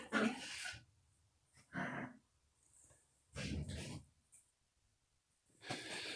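A pet dog whines and snorts in several short, breathy bursts separated by quiet gaps, close by, with no one talking.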